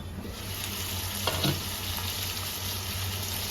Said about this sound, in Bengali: এবার ঢাকা দিয়ে আরো দু মিনিট কষিয়ে নেব